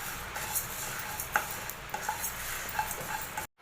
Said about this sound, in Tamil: நாங்கள் எண்ணெயெல்லாம் ஊற்றலைங்க, நம்ம இப்படியே தானே வறுக்கிறோம்.